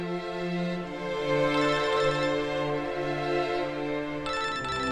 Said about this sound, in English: Your cell phone's ringing.